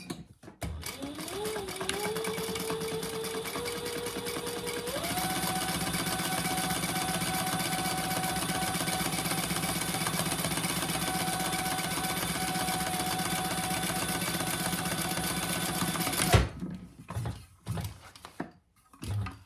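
A sewing machine runs steadily while stitching fabric, its motor whirring as the speed steps up and then holds constant for over fifteen seconds, stopping with a clunk and followed by a few faint handling bumps.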